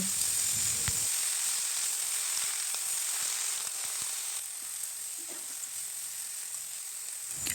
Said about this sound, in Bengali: কেটে রাখা কুমড়ো শাকগুলোকে দিয়ে দেব। গ্যাসের আঁচটাকে লো ফ্লেম করে ভালো করে নাড়াচাড়া করে নেব।